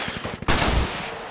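A few quick gunshots crack in the Squad video game, then a sharp loud blast bursts out and rumbles on as a broad roaring wash, fitting a TOW missile launch.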